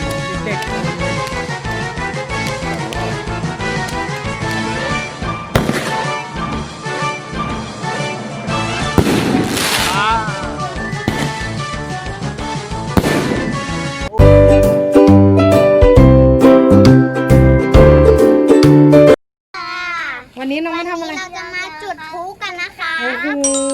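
Fireworks and firecrackers being set off, with loud repeated bangs and crackling bursts through most of the stretch, mixed with children's voices and what sounds like music or other layered noise, briefly cutting out near the end.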